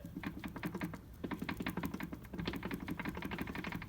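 A small engine with a knock runs at idle with a fast, steady ticking knock, quiet and close, the rapid tapping rhythm repeating throughout.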